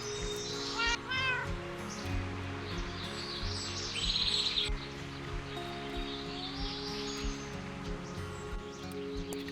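A new cat meows several times at close range while being fed in the morning at a barn, with short rising calls at the start and birds chirping in the background.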